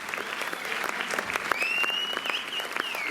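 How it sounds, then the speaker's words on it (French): A cinema audience at a screening event claps in a brisk, close burst of applause, with a faint high whistle-like tone partway through. "on applaudit Constance de la société de distribution Le Pacte"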